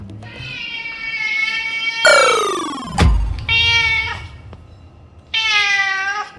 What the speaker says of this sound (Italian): Vediamo se gatto Decibel si accorge della mia presenza.